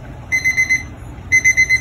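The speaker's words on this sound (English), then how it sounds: "Buzzer's gone off, just a little quick reminder." Two quick bursts of a kitchen timer beeping, four short high beeps each, with a pause between groups over low background hum.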